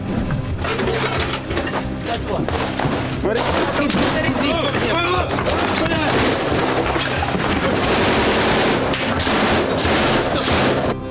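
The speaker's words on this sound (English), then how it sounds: "we'll see how Punk started the shooting while Sova took his grenade" Dense gunfire crackles through frontline combat as rapid bursts and scattered shots overlap into a loud, continuous barrage, with shouting voices mixed in.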